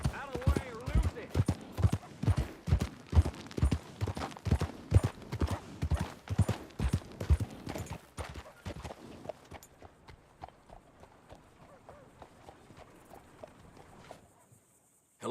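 Horse hooves clip-clop in Red Dead Redemption 2, a close, regular walking rhythm of clear knocks that fades after about eight seconds into quieter, sparser steps, with voices talking over parts of it.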